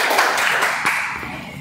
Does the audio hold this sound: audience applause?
yes